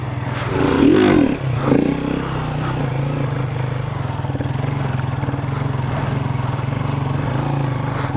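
A motorcycle with a light two-cable throttle setup revs as the rider holds a wheelie, a steady close engine drone with a brief louder surge near the start, no talk.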